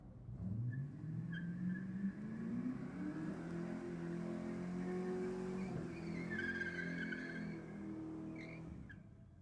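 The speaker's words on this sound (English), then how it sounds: "The Ute putting in a fair bit of effort into the burnout here." A ute doing a burnout at a JDM and Euro car night: a loud, sustained engine roar with rising revs and tyre squeal, holding steady for about nine seconds.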